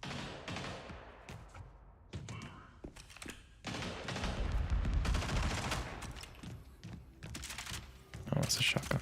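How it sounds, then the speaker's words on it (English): Shotgun blasts in a realtime tactics video game ring out as sharp, repeated bursts over clicking and other game noise, with people talking throughout. "that's a shotgun"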